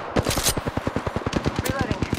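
Rapid automatic gunfire from a weapon in the Apex Legends battle royale game, loud and close, firing in a steady stream of quick shots over roughly two seconds with brief gaps.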